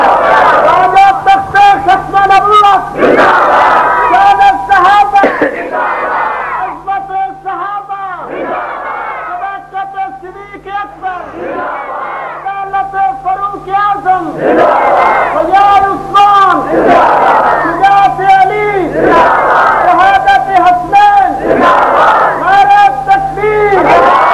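A large crowd at a religious gathering in Chakwal chants the Nara-e-Takbir slogan, loud shouted call-and-response bursts repeating in a strong rhythm, with a brief dip before the chanting surges back.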